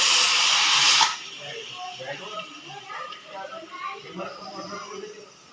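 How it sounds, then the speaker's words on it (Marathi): A pressure cooker's second whistle, cooking a spiced home-style rice dish, lets out a loud, steady steam hiss for about a second, then cuts off as a voice speaks over faint kitchen noise. "बघू शकता दुसरी शिटी"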